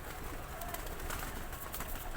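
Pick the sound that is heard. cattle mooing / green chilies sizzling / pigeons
pigeons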